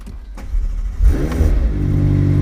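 A McLaren 720S sports car engine cranks and catches, then settles into a loud, deep rumbling idle with a slight rev, close by.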